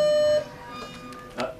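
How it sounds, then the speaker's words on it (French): A transformer temperature alarm in a power control room gives one short electronic beep, after which a voice speaks over faint room noise. "Alarme température nord-ouest sur le TR4. Une alarme s'allume."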